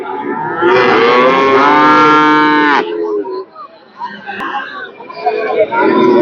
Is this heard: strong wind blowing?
no